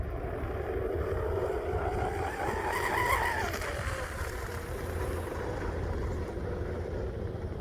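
An RC model boat running on open water, a steady motor drone that swells and fades as it passes, mixed with wind buffeting the microphone outdoors.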